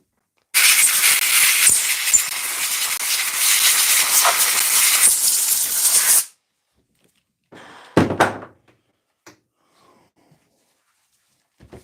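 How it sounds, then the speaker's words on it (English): An air compressor runs with a loud, steady broadband hiss for about six seconds, then cuts off, followed by a few sharp thunks and short bursts of air. "We need to plug in the compressor again."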